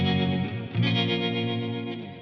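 Electric guitar chord sustains through a Kernom Elipse modulation pedal with the depth turned down, a gentle chorus-like shimmer over a steady tone, briefly restruck partway through.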